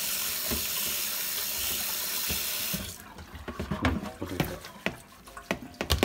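Water gushes from a tap into a sink for about three seconds, loud and steady, then gives way to splashing and irregular drips and clatter as pasta is drained; a voice briefly speaks.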